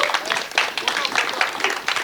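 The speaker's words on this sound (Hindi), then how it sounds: "एक बार सारे कास्ट के लिए बहुत सारी तालियां होनी" Audience clapping at a film trailer launch for the cast of the Punjabi film Jatt & Juliet 3, a dense patter of many hands mixed with crowd chatter throughout.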